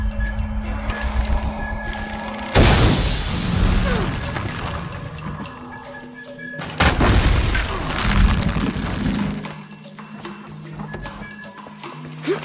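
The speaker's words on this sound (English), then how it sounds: "Create an explosion" Two heavy booming explosions in Shadow of the Tomb Raider, each a sudden loud blast trailing into rumbling debris, set against game ambience with horse-like clip-clop and mechanical noises between them.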